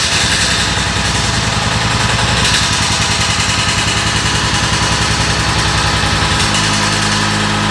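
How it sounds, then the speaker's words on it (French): A vacuum pump on a tanker truck runs steadily with the truck engine idling, giving a loud continuous mechanical drone with a rhythmic pulsing throb that shifts slightly in pitch near the end. "donc je viens mettre en route ma pompe à vide"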